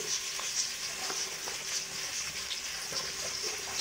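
Chopped onions fry in hot ghee in a pan, giving a soft, continuous sizzle with faint crackles, fairly quiet and steady, with no voices.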